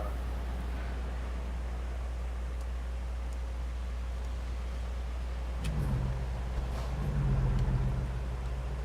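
Heavy semi truck in American Truck Simulator pulling away from a ramp outside Los Angeles, a steady low engine drone that swells with a couple of deeper rumbling pushes as it gets rolling.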